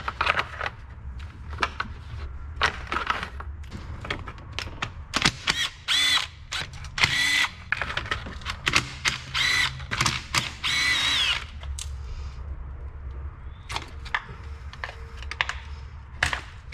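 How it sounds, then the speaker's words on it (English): A hand tool works 10mm fuel rail bolts loose on a 2006 BMW 325xi, giving quick irregular bursts of clicking and whirring with short pauses between them, close and fairly quiet. "we need to unbolt our fuel rail, which there's some 10mm bolts"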